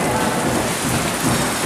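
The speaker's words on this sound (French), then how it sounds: "Ça a pris du monde du Saguenay pour amener de la pluie ici." Heavy rain falling: dense, continuous hiss of drops on surfaces, loud and steady across the whole moment with no voices.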